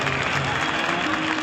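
Audience clapping at a Republic Day parade, dense continuous applause from a crowd, loud and steady for the whole moment, with a faint voice beneath it.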